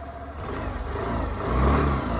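A Suzuki Burgman scooter's engine hums steadily while riding gently, rising a little in pitch and loudness toward the end as it picks up speed, with no talking.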